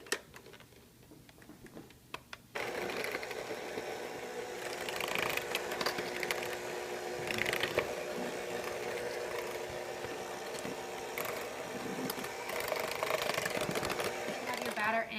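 An electric mixer beats cake batter of milk and dry ingredients, starting abruptly after a quiet moment, then a steady, close mechanical whirring and rattling that runs on to the end.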